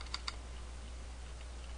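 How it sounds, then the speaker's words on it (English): Two quick, faint keystroke clicks on a computer keyboard, close by in a quiet room with a low background hum. "I can literally just start typing my name"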